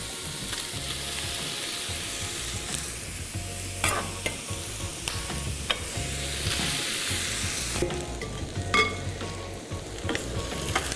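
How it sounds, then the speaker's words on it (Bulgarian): Chopped tripe for pacha sizzles and fries in a pan while being stirred, a steady crackling hiss broken by frequent scraping and clacking utensil strokes. "Сега вече разбърквам."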